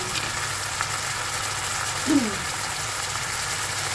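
Sardines with pechay boiling in a pot, a steady bubbling sizzle with a brief scraping clink midway.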